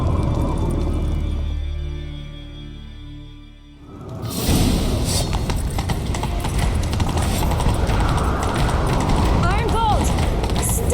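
Horse hooves gallop in The Witcher 3 in a steady, loud, continuous rhythm. A low, fading stretch of music or voice comes before them, and faint voices and whooshing rush sit underneath.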